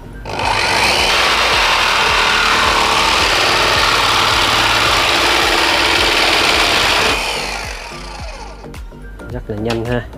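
A WEN electric jigsaw cuts with a loud, sustained high-pitched buzz for about seven seconds, then stops, followed by a few light clicks and a voice.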